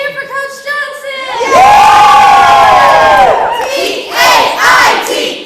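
A loud crowd bursts into cheering and whooping for Coach Johnson, rising after a short lead-in of voices and swelling again near the end, with young-sounding shouts mixed in.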